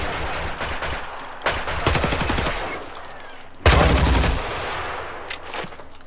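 Pistol gunfire in the video game HELLMET: two bursts of rapid, loud shots, the first around a second long and the second sharper and denser, with quieter game noise between them.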